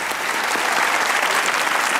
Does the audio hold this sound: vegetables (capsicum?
no